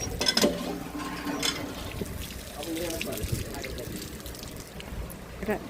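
Water splashes and gushes steadily from a hand pump, with a few louder bursts near the start and indistinct voices in the background.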